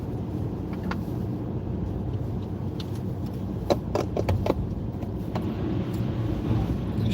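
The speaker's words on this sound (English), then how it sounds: "You might be able to hear the snow and the slush." Car tires churn through snow and slush on a road during a snowstorm, a steady low rumble and hiss heard from inside the moving car, with a few sharp clicks and splashes.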